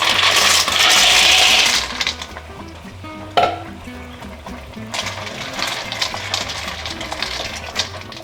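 Pasta with potatoes and provola stirred in a pot, a loud scraping swirl of spoon against metal, then lighter bubbling and clinks with a sharp knock midway, close up and with no talking.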